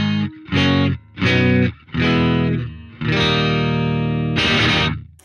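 Clean guitar amp tone from a BIAS amp simulator miked with a C414, a few strummed chords in separate bursts with short gaps, then a longer held chord, loud and close.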